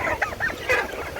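Several chickens at an Adana animal and bird market cluck in quick, overlapping bursts, close and fairly loud, with no talking.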